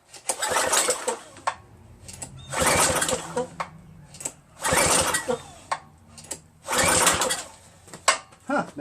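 A Craftsman pressure washer's small engine is pull-cranked after a carburetor cleaning: four rough, roughly one-second bursts of rasping cranking about two seconds apart, with brief knocks between them and no sustained running.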